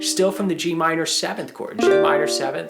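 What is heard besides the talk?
No distinct noise like a dog, phone or traffic.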